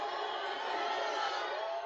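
A crowd roars and cheers as a total solar eclipse plunges Austin, Texas into darkness, a dense sustained wall of voices and whoops heard as if from a played recording.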